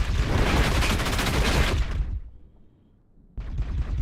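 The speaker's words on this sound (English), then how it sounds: "Also, the battle rifles actually sound good." Battle rifle gunfire in the WARNO video game with a Halo mod: a dense, loud barrage of overlapping shots for about two seconds, then a near-silent lull before the firing bursts back in.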